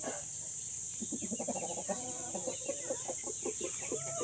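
Rhode Island Red, Black Australorp and Light Sussex breeder chickens cluck steadily and close, overlapping murmuring clucks over a constant high hum of farm background.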